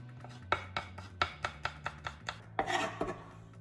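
Peeled potatoes chopped into pieces with a knife on a board: about ten sharp, evenly spaced cuts close by, followed by a brief rasping scrape as the pieces are gathered.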